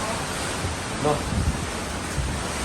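A steady, roaring wash of Typhoon Odette's wind and water fills a flooded house as it pours through the windows. A single short word is spoken partway through.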